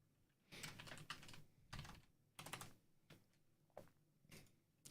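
Quiet bursts of typing on a computer keyboard, several quick flurries of close key clicks separated by short pauses, with no speech.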